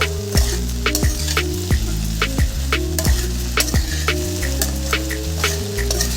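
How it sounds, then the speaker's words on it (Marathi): Okra with salt being fried and stirred in a pan: a loud, continuous sizzle broken by frequent sharp spatula clacks and scrapes at an irregular rhythm, with no talking. "तर स्वादानुसार मीठ घातलेलं आहे व्यवस्थित मिक्स करून घ्यायचं आहे दोन ते तीन मिनिट"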